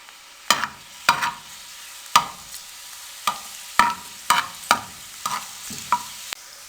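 Finely chopped fresh garlic frying in oil over medium flame, with repeated stirring scrapes and clatters at irregular intervals, each a sharp burst over a low, steady sizzle.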